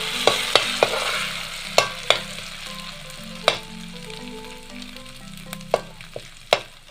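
Ground cumin paste sizzles in hot oil for a grass carp and white gourd fish curry, a soft continuous fry punctuated by sharp spoon clinks and taps against the pan, no talk.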